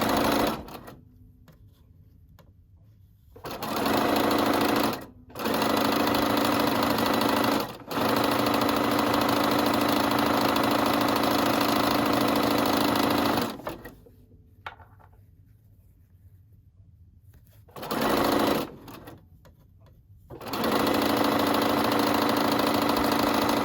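A sewing machine stitches a seam on a McCall's 8358 wrap dress, backstitching and continuing, in loud sustained runs broken by short pauses and a longer quiet stretch midway.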